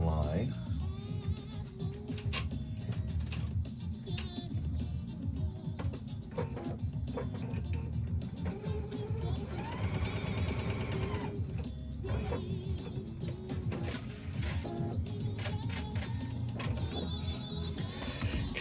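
A sewing machine stitches a line in quick bursts, its fast mechanical whir starting and stopping several times, fairly quiet and close, with brief handling sounds between runs.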